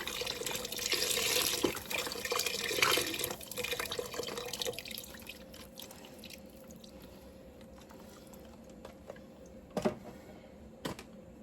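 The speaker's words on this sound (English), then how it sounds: "So we're going to add in beef broth, 4 cups of beef broth." Four cups of beef broth pour into a pot in a liquid splash and gurgle. It is strongest at first and then fades to a quieter trickle with a few drips and clinks near the end.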